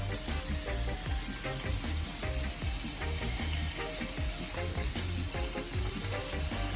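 Onions sizzle in a frying pan for Jamaican escovitch sauce, a steady, close hiss of hot oil with small crackles and some stirring throughout.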